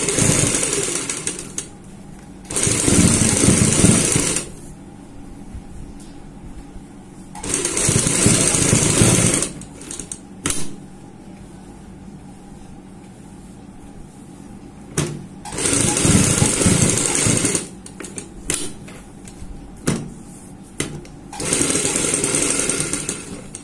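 A sewing machine stitches a blouse neck piece backed with buckram, running in several loud bursts separated by pauses, with a voice talking in the gaps.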